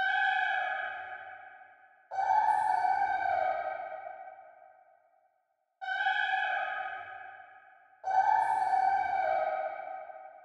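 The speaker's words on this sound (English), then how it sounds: "I think the main sound that put the flow together was this vocal sample." A vocal sample from a track plays alone: two pairs of sustained, breathy sung tones that swell and slowly fade, with short pauses between phrases.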